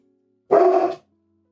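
A single dog bark rings out close and loud, one short sharp woof standing alone in otherwise quiet surroundings.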